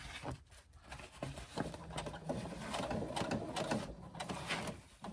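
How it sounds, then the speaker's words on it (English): A sewing machine stitching a backpack side panel near the zip seam, running in short bursts of rapid mechanical whirring and clatter with brief pauses, faint and close by, with no talk. "we're going to stitch down here as close as we can to this flat joining area"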